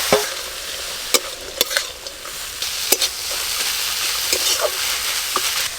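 Greens with salt and turmeric being stirred and fried in a pan, a loud continuous sizzle broken by repeated scraping strokes of a spatula at an uneven rhythm, no voices.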